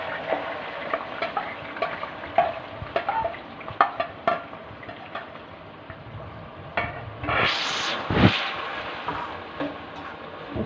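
Three to four chopped medium onions fry in hot oil, with a soft bubbling sizzle broken by irregular spatula knocks and scrapes, then a louder surge of hissing near the end.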